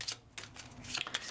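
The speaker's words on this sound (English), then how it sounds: "I need to shuffle and draw 1." Playing cards shuffled by hand during a solo session of the board game Ignite, several short crisp riffling bursts close by with brief gaps between them, no talking.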